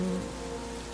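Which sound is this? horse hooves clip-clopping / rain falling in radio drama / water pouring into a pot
rain falling in radio drama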